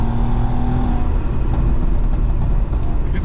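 A naturally aspirated VW Golf MK5 R32 engine revs close by, giving a loud, steady, throaty roar with a held drone that barely varies through the few seconds.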